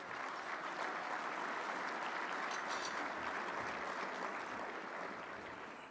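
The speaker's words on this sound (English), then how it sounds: "Would you please give all of our partners a big round of applause?" At a recruiting luncheon, the seated crowd gives the event's sponsors and partners a full round of applause. The clapping is steady and evenly dense throughout and fades a little in the final moment.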